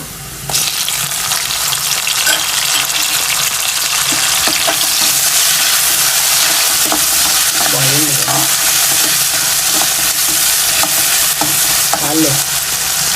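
Tomatoes tipped into onions already browning in a pan for egg noodles, a loud, steady hiss of frying heard up close, with occasional clinks and stirring scrapes and no talking.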